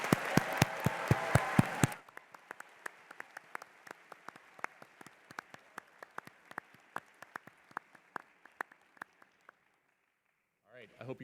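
A middle school audience at the 2019 National Science Bowl championship match bursts into dense applause for a couple of seconds. It thins into scattered, trailing claps that fade to near silence, and a brief voice follows at the end.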